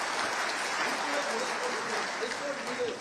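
An audience at a political speech in Bogura claps for the sports minister, a dense, steady wash of applause that holds at an even level throughout.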